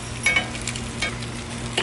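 Pierogies frying in a hot pan alongside kielbasa, giving a steady close sizzle with a few soft scraping stirs and no talk.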